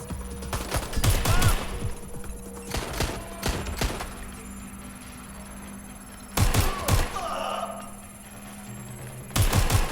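Rapid volleys of gunfire from the Watch Dogs Legion video game come in loud, close bursts separated by quieter gaps with a low ambient hum.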